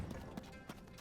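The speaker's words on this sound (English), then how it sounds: "I hear horses." Faint hoofbeats of horses galloping in the Tears of the Kingdom video game: a few soft, rhythmic clip-clops heard at a distance in a brief moment.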